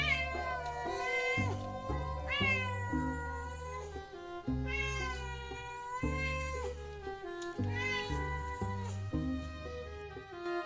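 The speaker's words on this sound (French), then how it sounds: "Je miaule, à qui veut l'entendre, à côté de ma gamelle, vide." A hungry cat meows again and again beside its empty food bowl, long drawn-out cries following one another up close with almost no pause.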